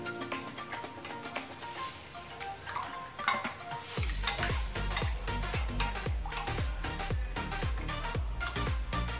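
Ingredients for chicken Manchurian are stirred and mixed in a bowl, producing a steady, rhythmic run of clicking, scraping strokes that grow louder and more regular partway through, with no talking.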